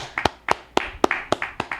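Sparse hand clapping from a small group on a casual podcast set: about seven sharp, close claps spaced a quarter second apart, fairly quiet and with no talk over them.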